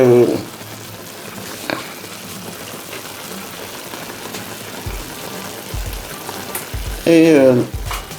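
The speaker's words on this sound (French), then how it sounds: "Alors je suis venu mettre mes oignons hachés, mes tomates" Chopped onions and tomatoes fry in a pot with chicken, a soft continuous sizzle and crackle that sounds almost like rain, with brief bursts of a voice at the start and near the end.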